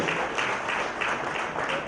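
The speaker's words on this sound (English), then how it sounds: "big round of applause, ladies and gentlemen." Audience applause for a prize winner at a university valedictory ceremony, a steady, dense wash of clapping filling the whole moment at moderate volume.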